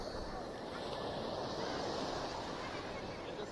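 Ocean surf rolls in at Keri Beach in North Goa, a soft, continuous roar of waves heard from some distance, low in level with a breezy wind rush blended throughout.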